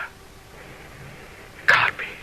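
A single sharp cough bursts out close and loud after a stretch of quiet room tone, with a faint throaty trailing sound just after it.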